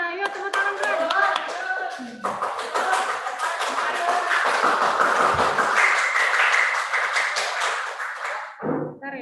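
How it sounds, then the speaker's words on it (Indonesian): A group of pupils claps hands together for classmates after a class project presentation, a dense, steady burst of clapping that runs for several seconds. Faint children's voices mix in, and it tapers off near the end. "Yuk, tepuk tangan, Bang"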